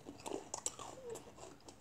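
Faint, close biting and chewing on a milk-soaked Swedish Fish Oreo, with a few soft crunches and wet mastication sounds spread over a couple of seconds.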